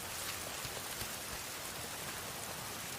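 Steady rain falls outdoors on the way to a library, a dense even hiss of drops spattering on surfaces with no gaps and no voices.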